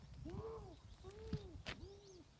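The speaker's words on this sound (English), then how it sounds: "Hear the owls going?" Owls hooting outdoors near a concrete curb repair job, three separate soft falling hoots spaced about a second apart, faint and distant with no talk over them.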